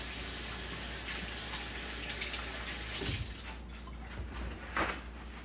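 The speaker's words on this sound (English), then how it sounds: "Let me give my hands a little rinse real quick." Tap water runs steadily into a sink while hands are rinsed under it, a continuous close rush with small splashing changes and no talking.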